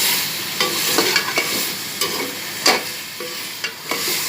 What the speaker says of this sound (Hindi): ये भून रहा है, घी भी छोड़ रहा है अब ये कीमा अपना।